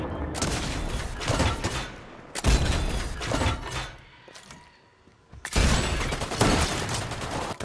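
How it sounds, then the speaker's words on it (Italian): Fortnite gunfire in three dense bursts of rapid shots separated by short quieter gaps, loud and close, with no talking. "Aspetta che sta sparando."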